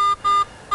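A Garrett metal detector sends out a signal in three clean, steady electronic tones of equal pitch, each a fraction of a second long with short gaps, loud and close with no other sound.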